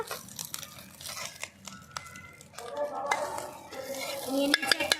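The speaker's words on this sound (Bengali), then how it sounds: "এই দেখো চিংড়ি মাছ ভালো করে ভাজা হয়ে গেছে" Oil sizzles steadily in a pan as shrimp fry while a utensil scrapes and stirs, with clattering clinks growing louder toward the end.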